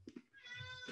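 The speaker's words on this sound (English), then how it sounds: "he just finds the room and he just starts meowing" A male cat meows indoors, a couple of short chirps followed by a longer, drawn-out meow, close and quiet.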